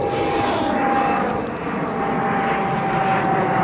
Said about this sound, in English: As a plane flies overhead